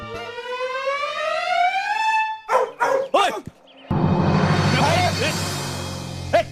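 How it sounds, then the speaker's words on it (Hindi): A dog gives a few sharp barks in quick succession between a long rising wail and a dense, noisy stretch of sound, fairly loud and close. "अबे कुत्ते चुप!"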